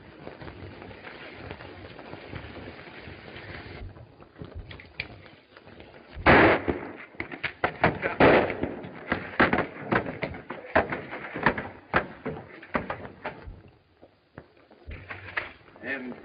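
Gunshots in an old western, Sheriff of Sage Valley: sharp, loud cracks burst out over a busy mix of talk and action, with several reports clustered together in the middle.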